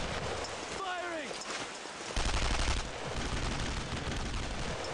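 Gunfire bursts from the World War II shooter Brothers in Arms: Road to Hill 30 crackle throughout, with a heavier volley near the middle, mixed with battlefield noise and a voice.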